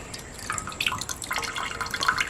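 Soaked urad dal lifted out of its soaking water for medu vada, shedding a scatter of small drips and trickles, close and fairly quiet, with no talking.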